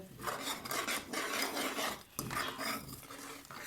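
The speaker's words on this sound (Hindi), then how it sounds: "अभी हमने इसमें चम्मच हिलाना है" A spoon stirs a spiced mixture of coriander and chilli powder for aloo parathas, giving a continuous close scraping rasp in repeated strokes with a brief pause midway.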